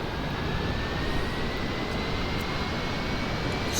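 A C-130 Hercules engine in a flight simulator game spools up with a steady, broad jet-like whine and a faint rising tone, loud and continuous throughout with no talk.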